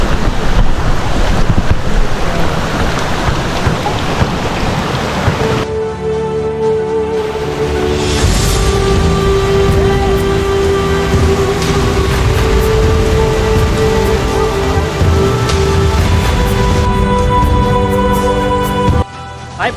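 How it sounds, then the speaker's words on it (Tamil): A waterfall on the trail to Nethravathi Peak, at the source of the Nethravathi dam, roars loudly and steadily up close, then drops to a quieter rushing wash with a faint tonal hum layered over it. "இந்த அருவி தான் நேத்ராவதி அணைக்கு போகிற அருவின்னு சொல்கிறாங்க."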